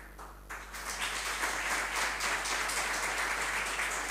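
Applause from an audience at an academic chair launch ceremony swells after a short pause and carries on steadily as dense, even clapping, with no voices over it.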